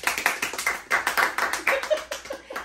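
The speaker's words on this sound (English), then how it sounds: "let's give a round of applause for ourselves for showing up" Podcast hosts clapping for themselves, a small group of close, distinct hand claps in a quick uneven rhythm that thins toward the end.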